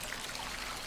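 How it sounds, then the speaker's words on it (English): Gentle running water from the video game Botany Manor, a steady soft trickle and stream sound filling the short stretch evenly and quietly, with no talking. "I do like the peaceful sounds of this game. Just the running water,"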